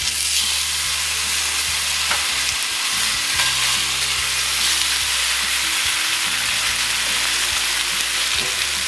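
Steaks fry in a pan thickly coated with oil, giving a loud, steady, dense sizzle with crackling that runs without a break and without speech.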